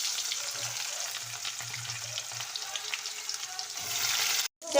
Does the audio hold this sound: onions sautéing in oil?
yes